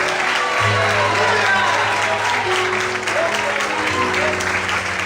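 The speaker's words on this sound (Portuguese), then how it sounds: "Será que você pode aplaudir o Senhor?" A church congregation applauds for several seconds in a worship service, with steady clapping over low sustained tones that sound like keyboard or organ notes.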